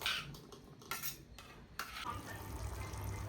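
Spices being tempered in a pan for potato egg curry: a spoon clinks and scrapes against the pan over a soft, steady sizzling hiss, close and quiet, with no talking.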